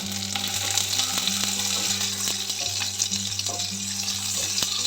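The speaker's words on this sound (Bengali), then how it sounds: "কিশটা আমি ঘিয়ের ওপর ভেজে নিয়েছি" Cashews and raisins fry in ghee in a pan, giving a dense, steady sizzle up close with light stirring and a low hum underneath, no talking.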